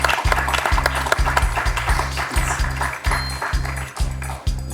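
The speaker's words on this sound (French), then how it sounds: "Et on peut applaudir Jérôme pour ce magnifique 4 à la suite." Studio audience applause on the French quiz show Questions pour un champion, a steady clapping wash heard over a loud, pulsing musical jingle with a repeating low beat, continuing through the whole passage.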